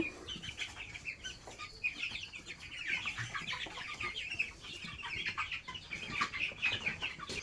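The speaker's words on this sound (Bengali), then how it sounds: "আলহামদুলিল্লাহ আমার এই 100 মুরগি বিক্রয়ের উপযোগী হয়ে গেছে।" Many chickens cluck and chatter continuously on a poultry farm, a dense, fairly faint flock noise with no talking.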